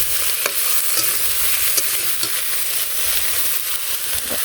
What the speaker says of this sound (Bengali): সব সবজিগুলো দিয়ে দিই এখানে আছে টমেটো গাজর বেগুন আর একটু ভালো করে কষাই